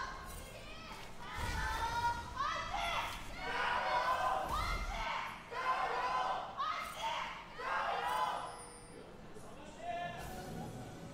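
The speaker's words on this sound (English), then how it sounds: "A lot of very vocal support there for Invictus Gaming" Loud, vocal crowd of fans cheering and shouting in support of Invictus Gaming at an LPL Summer 2024 esports match, swelling in repeated waves with a couple of heavy thumps near the start.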